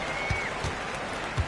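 A home crowd at a basketball video game applauds in a sustained wash of clapping and cheering, with a few low thumps punctuating the steady noise.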